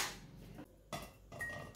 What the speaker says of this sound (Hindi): अब मैंने दूसरा एक बड़ा बर्तन लिया है, इसमें मैं मिट्टी के बर्तन रखूंगी।